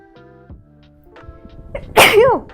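One loud, explosive sneeze, up close, following a stretch of quiet tonal background sounds.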